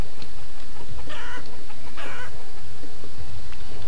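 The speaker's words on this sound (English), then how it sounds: "Got a squawking gaggle of chickens." Chickens squawking and clucking in the village-building game Banished, several close, loud bursts of excited cackling over a low farmyard murmur.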